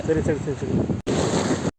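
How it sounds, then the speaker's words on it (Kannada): Steady wind noise buffets the microphone beside the Malaprabha river, with a voice speaking over the first half before a brief cut and more roaring gusts. "ಗಾಳಿ ಓದ್ತದ"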